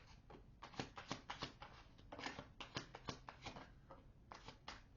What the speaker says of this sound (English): And you saw me shuffle the deck